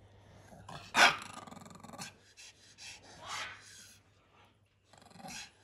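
A small dog outdoors in a yard growls and gives a few short, sharp barks, with pauses between them, fairly close and fairly quiet.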